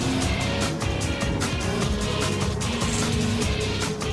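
Racing cars in a video game roar along a track, a dense, continuous layered engine drone with shifting pitches from several cars at once, steady and loud throughout with no voices.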